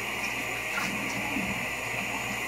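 Cold water running steadily from a tap, a soft continuous hiss and gush heard fairly quietly indoors.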